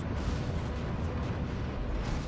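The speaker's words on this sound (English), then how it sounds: "Avoid cannons if at all possible." Cannon fire impact in the Iron Man video game, a dense continuous rumbling blast filling the short stretch, loud and close.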